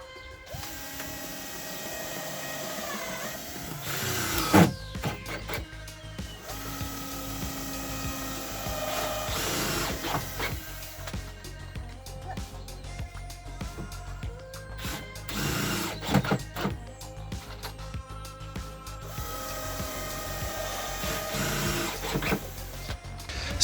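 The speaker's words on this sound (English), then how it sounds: "But just another 50 or 60 more of those holes to go." Power drill boring holes into recycled wood for a rustic garden bench, whirring in repeated bursts with clattering mechanical noise and short pauses between holes, close and loud.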